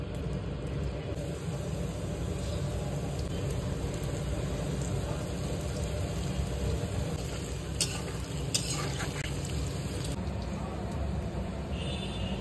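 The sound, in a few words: tal fuluri (palm fritters) frying in hot mustard oil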